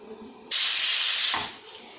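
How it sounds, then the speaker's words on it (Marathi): A pressure cooker whistle blasts steam in one loud sustained hiss that runs about a second, then tapers off, while eggplant and potato curry cooks on the gas stove. "दोन सिटं झाल्या मी गॅस बंद करणार आहे"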